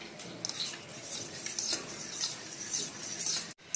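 Close, soft scraping and clinking of a spoon stirring spice paste with water in a bowl, a steady gentle swirling rhythm with light metallic taps, no talking.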